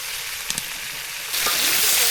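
Beef frying in a pan as potatoes are tipped in, a steady sizzle that swells sharply louder and brighter partway through, with a few stirring knocks and no talk.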